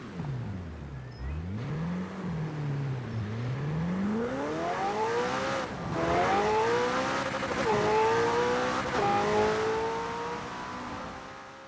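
A 2018 McLaren Senna in Forza Horizon 4 revs and accelerates hard, engine pitch climbing through several gear changes, loud and close with no talk.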